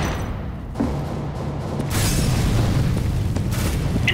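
A flashbang grenade detonating in CS:GO, a deep booming burst followed by a sustained loud rumbling wash and ringing hiss, with no talk over it.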